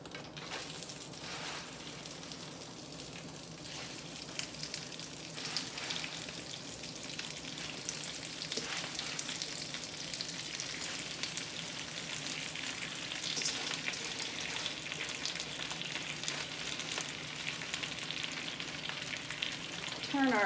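Spinach frying in a pan for spanakopita, a dense, steady hiss of sizzling that swells as more leaves go in, close and continuous with no talk.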